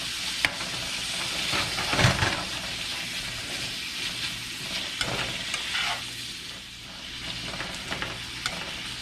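Steak pieces for Philly cheesesteak filling sizzle steadily in a pan while being pushed around, with scraping stir sounds and occasional louder crackles, no talking.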